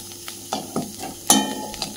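Ground spice paste roasting in a pan sizzles softly while a spoon stirs it in several distinct scraping strokes, one sharper clatter at the middle, close by.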